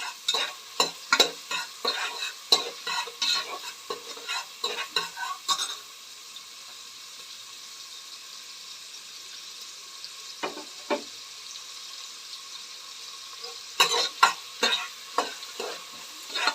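Spices and onion fry in oil for tomato bath, with a spatula scraping the pan in quick bursts, then a quiet stretch of faint sizzling and a few scrapes, before brisk stirring resumes.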